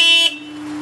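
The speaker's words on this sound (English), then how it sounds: "Horn comes with it as well." Honda S2000 horn gives a short, loud, bright blast lasting about a quarter second, followed by a lingering steady tone as it fades, close by and alone.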